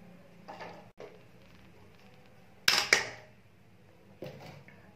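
Metal spoon scraping and clinking in a pan as semolina thickened with a spoonful or two of ghee is stirred, with a couple of sharp close clanks midway and softer scrapes around them.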